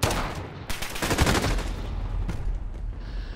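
Rapid gunfire from sniping in the video game Call of Duty Modern Warfare, with several sharp bursts of shots close together that fade into rattling echoes.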